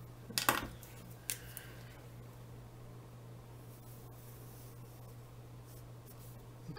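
A marker squeaks briefly across a board as a short line is drawn, two quick strokes near the beginning, followed by a long stretch of steady hum and room noise with no talking.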